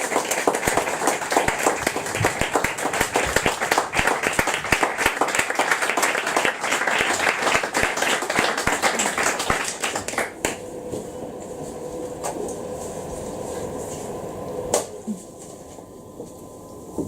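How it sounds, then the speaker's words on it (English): Audience applause after a literary reading: dense, loud clapping from a crowd for about ten seconds, then thinning to scattered claps and quieter room sound. "More applause, please, for Anna Beecher."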